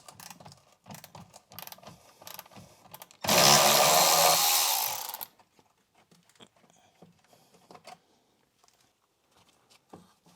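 A power ratchet whirs for about two seconds, loud and close, backing out a 10mm bolt holding a plastic underbody cover on a Renault Scenic 3, with scattered clicks and handling noises before and after.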